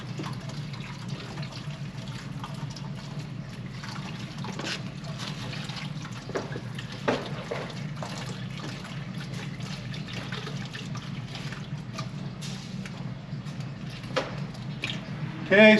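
Motor oil drains from a 2022 Ram 1500 EcoDiesel during an oil change as a steady low trickling pour. The stream runs continuously at moderate level with occasional small clanks, and a sudden louder burst comes at the very end.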